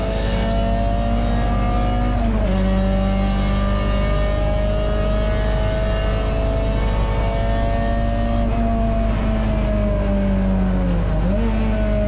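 A Peugeot 206 GTI race car on a drying wet circuit at Donington Park accelerates hard, its engine climbing steadily through the revs with two brief dips at gear changes, loud and close from onboard, with no talking.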